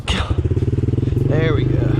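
A pit bike engine idles with a steady rapid putter and a brief rev midway, close and loud, heard outdoors near a construction site.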